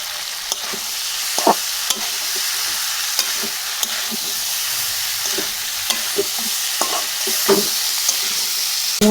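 Chickpeas with dried red chillies fry in a pan, giving a steady, close sizzle broken by irregular scraping and clacking as a spoon stirs them.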